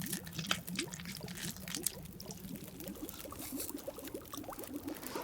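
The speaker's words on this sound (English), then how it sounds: "And you can hear it boiling." Water boils in a pot in the survival game The Long Dark, a steady bed of quick bubbling pops and soft gurgles that runs on without a break.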